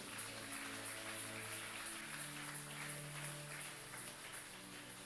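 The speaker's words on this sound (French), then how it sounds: "Est-ce que tu peux applaudir ton Dieu?" Church congregation clapping steadily for God during a sermon, a dense, continuous patter of many hands under a sustained hum, with no distinct voices standing out.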